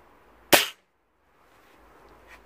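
A single sharp crack of an HW99S air rifle shot fired at arm's length from a decibel meter, loud and abrupt, then near silence.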